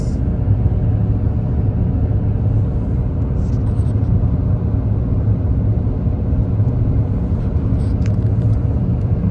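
A taxi drives along King Salman Road in Medina, its interior filled with a loud, steady rumble of engine and road noise for the whole stretch, with faint clicks now and then.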